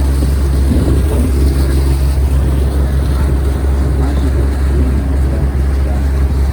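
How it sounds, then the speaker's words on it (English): A boat motor drones steadily with wind and water rushing past, a loud, constant low rumble throughout. "After seeing the ancient boat, we get on a real boat."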